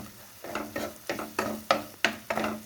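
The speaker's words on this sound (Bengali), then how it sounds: "এবার মশলাটাকে আমি খুব ভালো করে কষে নেব" A spice paste of soaked ground cumin and coriander fries in a pan while a spoon scrapes through it in about eight regular strokes, each stroke lifting a close, crackling sizzle.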